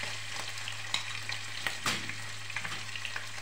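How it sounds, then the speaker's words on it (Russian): Boiled meat frying in heated oil in a roasting pan on a stovetop at reduced heat, giving a steady soft sizzle with a few light clinks and stirring scrapes and no talk. "мясо закрою крышкой и буду обжаривать минут 5-7"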